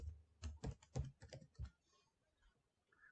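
Quick bursts of keystrokes on a computer keyboard while coding a JavaScript web game, about eight soft clicks in a row and then quiet.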